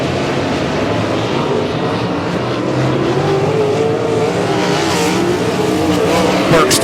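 Sprint cars of the POWR WAR Sprint Car League racing around Humboldt Speedway, a loud continuous engine roar with rising and falling pitch as cars pass and accelerate, steady and dense throughout.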